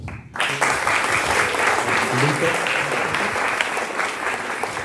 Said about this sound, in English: Can we give a big round of applause for everybody that soloed on The Legend?